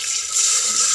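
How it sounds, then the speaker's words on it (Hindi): Water pours steadily into a cooking pot on the fire for daal chawal, a short, close, continuous hissing splash with no talk. "अब इसमें पानी डालेंगे।"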